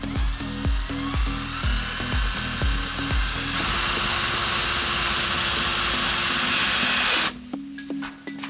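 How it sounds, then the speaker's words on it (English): A power drill drives self-tapping screws into a Honda Accord front bumper near the wheels, whirring in short repeated bursts, then one long continuous grind before stopping, close and loud. "put in the screws that are self-tapping into the bumper by the wheels"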